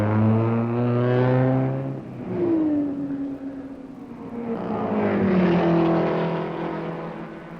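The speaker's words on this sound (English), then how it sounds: "80 of the world's top racing drivers are warming up for that toughest of contests, the 24-hour-long race at Le Mans." Racing cars warm up for the 24-hour race at Le Mans, engines droning and revving in long rising and falling tones, one dropping away before another swells again, loud and near, with no talking.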